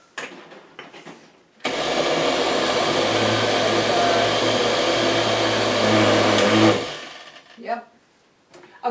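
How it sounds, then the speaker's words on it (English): Food mixer pureeing cooked apples for apple butter, a loud steady motor whir that starts abruptly, runs for about five seconds and stops, with quieter stirring sounds before and after. "And then restart your food mixer."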